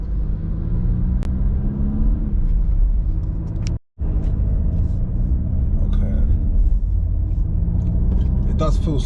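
An Audi Q3 climbs hilly roads around Marbella with a low, steady engine and road rumble heard from inside the cabin, broken by one brief dropout, while a person talks over it.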